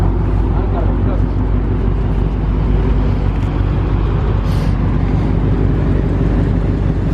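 A Dodge Charger Hellcat's supercharged engine drones loudly and steadily up close, its low rumble continuous throughout while people talk over it.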